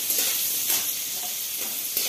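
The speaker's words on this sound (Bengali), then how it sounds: "এখানে আমরা আলু পটলের তরকারি করছি," A potato and pointed gourd curry cooks in a pan, giving a steady close hissing sizzle with soft bubbling pops, alone and without talk.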